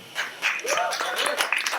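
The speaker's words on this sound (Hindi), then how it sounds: "जोरदार तालियां प्लीज" Audience applause welcomes an actress at a TV serial launch event, with scattered claps rising briefly under people talking over a music bed.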